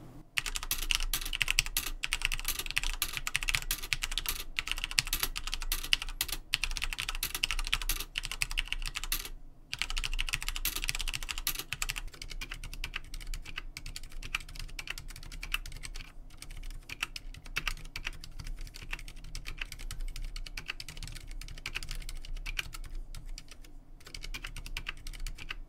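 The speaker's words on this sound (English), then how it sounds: "So let's test the sound of the switches." Typing on Cherry MX Red and Cherry MX Silent Red switches on a 60% Ducky Mecha Mini keyboard gives dense, rapid keystroke clatter, louder and sharper at first, then softer and more muted for the rest.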